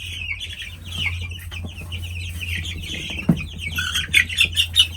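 Young meat chickens in a brooder cheep and cluck continuously under a steady low hum, with a few louder calls toward the end.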